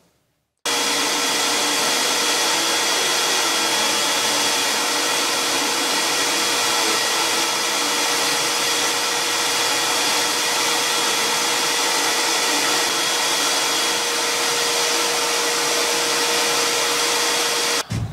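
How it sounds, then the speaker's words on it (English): A shop vacuum runs steadily and loudly for the whole stretch, pulling away rust dust while a Dremel rotary tool cleans parts of a 1934 Ingraham Bedford wall clock, a constant whining roar with no talk. "I decided to do is use the vacuum, the shop vac"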